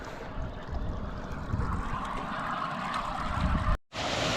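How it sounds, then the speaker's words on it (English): Steady rushing, splashing water pours continuously at close range from a busted water pipe under a trail down the Grand Canyon, a broad churning flow that cuts off abruptly near the end. "I think the water pipe that goes under the trail is busted. It's like flooding."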